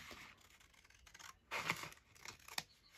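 Scissors trimming paper for an envelope journal, a few quiet, separate snips and crisp cuts spaced irregularly, with the sharpest cut near the end, in a calm, close setting with no voices.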